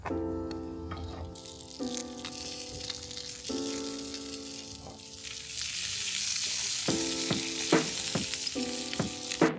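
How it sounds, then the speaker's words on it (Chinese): Small sausages fry in a pan for breakfast at a campsite in Yosemite National Park, giving a steady, close hiss of sizzling oil. Faint tonal sounds run underneath. "今天煎了点小香肠。"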